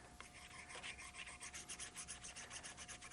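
A traditional wooden spoon rubs paper against a carved woodblock for a print, making a quiet, rhythmic back-and-forth rasping at a steady pace, close and alone.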